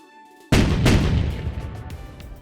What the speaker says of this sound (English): Let's add in our main explosion sounds